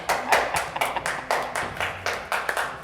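A crowd at a county commissioners' meeting claps sparsely, the individual claps spread out unevenly rather than blending into a roar, fairly faint and heard with no talk over it.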